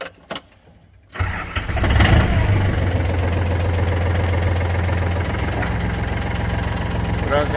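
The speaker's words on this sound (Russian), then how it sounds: "Будем запускать трактор." An ISEKI TA317 Japanese mini tractor with cab, 31 hp, is cranked after glow-plug preheating and its diesel engine catches, then settles into a steady, loud, close idle with a faint knock, with no talking.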